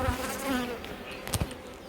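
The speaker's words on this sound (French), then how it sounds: "Il y a toujours 3-4 abeilles autour qui viennent défendre." Defending honeybees buzz around an opened hive, a steady insect drone with wavering tones as individual bees pass close to the microphone, a few brief louder fly-bys near the end.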